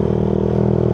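Yamaha Jupiter MX motorcycle fitted with a DBS racing exhaust, running close by with a steady, deep, pulsing engine throb.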